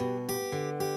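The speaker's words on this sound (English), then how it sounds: "I get a kind of a syncopated eighth note feel like this." Close acoustic guitar picks a short bouncing pattern, a higher note alternating between bass notes in quick off-beat eighths.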